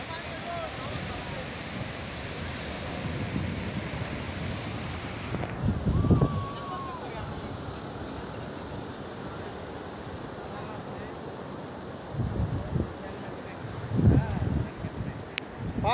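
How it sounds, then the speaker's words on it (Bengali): Sea waves roar continuously in a low, wind-buffeted wash, steady and fairly loud with occasional surges, while a person talks intermittently over the surf. "সমুদ্র গর্জন শুনতে পাচ্ছেন আপনারা"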